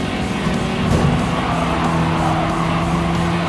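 Race cars in Gran Turismo on PS4 drone steadily, close and loud, with a brief swell near the one-second mark and a faint squeal of tires, with no talk over it.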